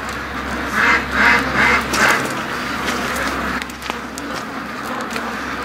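A very small duck at a lake gives a few quacks close by, followed by quieter rustling and outdoor background noise, with no one talking.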